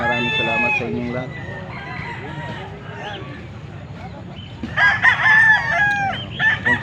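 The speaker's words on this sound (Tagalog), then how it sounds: "Pero marami ng manok na nandito, no?" Several roosters crow loudly at an early-morning cockfighting venue in Angeles, Pampanga, with repeated cock-a-doodle-doo calls and clucking over a crowd murmur.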